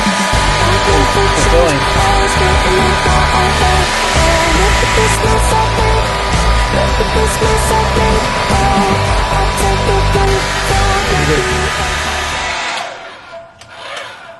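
A hair dryer on high heat blows steadily on dyed bucktail, a loud continuous whoosh with a voice talking over it, then cutting off near the end.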